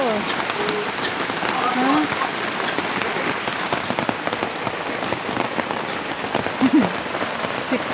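Steady rain pours and patters on surfaces at a nature park, a dense, continuous hiss of drops close by that goes on without a break.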